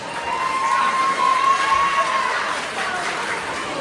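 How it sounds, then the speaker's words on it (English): Wedding guests at a reception applaud and cheer for the maid of honor as a dense, steady crowd wash of clapping and cheering, with a thin sustained tone running through it. "A big round of applause, please, for Savannah Kovalysh."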